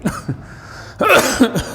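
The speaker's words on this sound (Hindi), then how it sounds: "खांसी परेशानी है।" A person coughs close to the microphone, a couple of short hacks followed by a harsher, louder burst of coughing.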